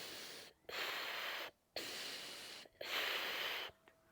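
Slow, deep ujjayi yoga breaths through a closed mouth with a hissing, throaty rasp, three long exhalations separated by short pauses, close and alone.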